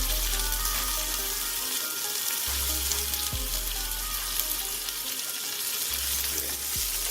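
Miso soy steak frying in a pan gives a loud, constant close sizzle, with a few faint clinks and stirring touches over a low hum.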